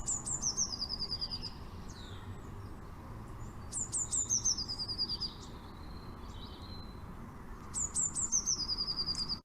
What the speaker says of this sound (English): These are blue tits, of course.